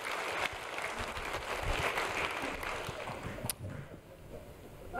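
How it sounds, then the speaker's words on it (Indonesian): A church congregation claps together during a sermon, a steady, moderate wash of hand claps that slowly thins out toward the end. "Tepuk tangan sekali lagi buat Tuhan kita."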